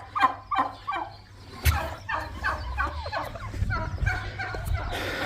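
Male turkeys on a livestock farm gobble in a string of close, loud, rapid bursts, several calls following one another over low farmyard noise.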